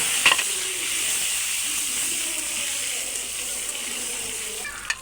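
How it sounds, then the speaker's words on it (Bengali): Potatoes fry in hot oil in a wok, giving a steady hissing sizzle close by, with a couple of brief clinks at the start and end. "এখন তেল দিয়ে দিব আলু ভাজার জন্য"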